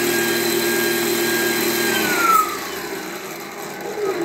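An electric skateboard motor with a straight-cut gear drive and a Focbox VESC controller revs close by. Its steady whine rises and peaks sharply, then eases back down to a lower hum.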